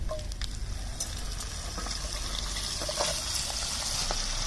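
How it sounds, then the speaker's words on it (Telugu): Broad beans frying in hot oil on a new stove, a soft continuous sizzle with faint crackles and occasional light clicks, steady and moderately quiet throughout. "ఇప్పుడు చిక్కుడుగాయలు వేసేసుకొని వేయించుకుందాం"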